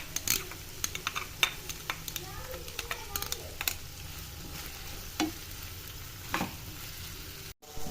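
Chicken simmers and sizzles in a pan with tomatoes and ketchup, crackling steadily while a utensil scrapes and taps the pan in short bursts, close and moderately loud.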